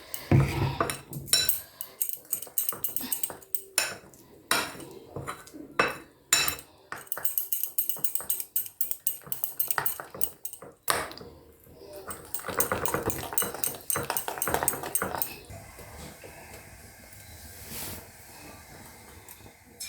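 Egg white, flour and a little water stirred into a paste in a bowl for egg chilli: rapid, close clinking and scraping of a utensil in irregular bursts, with a softer, steadier stretch near the end.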